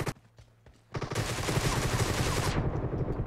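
Sustained automatic gunfire in the mobile battle game PUBG during a team deathmatch with a GROZA rifle, a few sparse shots followed by a loud, dense burst of rapid fire that continues steadily to the end.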